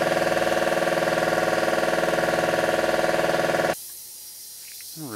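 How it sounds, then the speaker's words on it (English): An air compressor runs steadily and loud in a bike workshop, a continuous droning motor with hiss and a rapid pulsing beat, then cuts off abruptly, leaving quiet room noise. "The air compressor's annoying, but we're gonna keep it."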